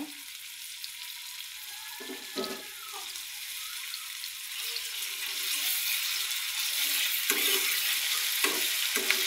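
Onions with garlic paste and cumin paste fry in a pan, a low sizzle that grows louder and more hissing over time, broken by a few thuds and scrapes. No one speaks.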